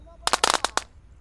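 Mercon tikusan firecracker fuse lit, then a rapid string of sharp crackling pops, five or six bursts over about half a second followed by one last pop, close and loud against quiet background.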